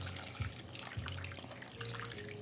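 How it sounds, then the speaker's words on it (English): Water runs from a tap into a cooking pot holding seasoned turkey wings, a steady splashing pour with a couple of louder gurgles, close and alone. "Now we're gonna add in some water"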